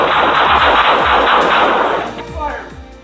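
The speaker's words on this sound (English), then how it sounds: "Gunfire erupts." Police gunfire during a nighttime confrontation at a house doorway: a loud, dense burst of shots and blast noise filling the clip, tapering slightly toward the end, with no talk over it.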